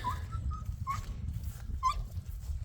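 Dogs whimper just after being fed, giving a few faint, thin, high whines in short separate bursts over steady low background rumble.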